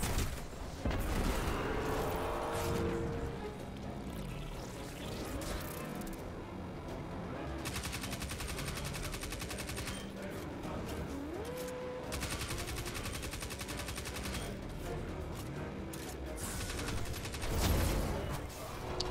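Enemy gunfire in a Destiny 2: Forsaken battle, bursts of rapid automatic shots and booming impacts layered over game music and effects, loud and sustained throughout.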